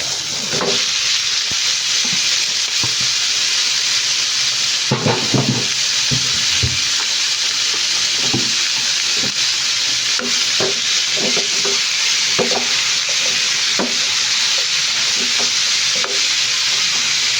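Chayote (sayote) sautéing in a pan: a steady loud sizzle and hiss throughout, broken by repeated scraping stirs of a utensil against the pan, with no talking.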